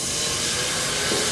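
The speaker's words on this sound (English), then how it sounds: "If you want to add a little bit of water," Water goes into a hot pan of sauteing vegetables and sets off a loud, steady sizzling hiss of steam. The hiss holds even and broadband with no talk over it.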